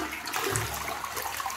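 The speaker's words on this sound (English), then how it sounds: "Flush the cockroach down the toilet." A toilet flushes with a steady, close rush of water that runs through the whole stretch at an even loudness, carrying a cockroach down the bowl.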